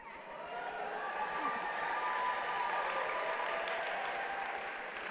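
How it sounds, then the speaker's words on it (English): An audience at a university College of Education graduation ceremony applauds the graduates: steady, dense clapping from a large crowd that swells slightly and holds without a break. "In fact, we encourage you to applaud anytime you see your graduate."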